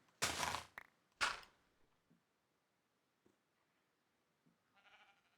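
Two short, loud bleats from a sheep in a game, followed by quiet clicks and a faint noisy burst near the end.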